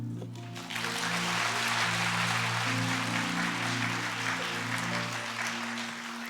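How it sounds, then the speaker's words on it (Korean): Sustained applause from a church congregation at a Wednesday worship service, steady and fairly loud for about six seconds over a held organ or keyboard chord. "우리 다시 한 번 더 우리 훈련 받으신 분들에게 좀 박수로 격려했으면 좋겠습니다"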